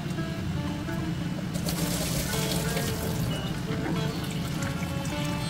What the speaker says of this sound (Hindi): आप देख सकते हो कि मैंने अच्छे से मसूर की दाल को बहुत अच्छे से धो लिया है।